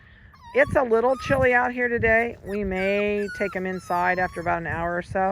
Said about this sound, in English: I have Stella's puppies are behind me, so you can hear them barking probably in this.